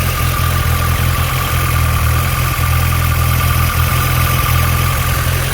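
A Honda Civic hatchback engine runs at a steady idle, close and loud, with a constant low hum and even mechanical texture throughout and no voices.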